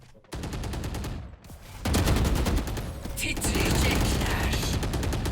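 Rapid automatic gunfire in the shooter game Valorant, loud bursts of evenly spaced shots that pause briefly and then resume heavier and denser to the end.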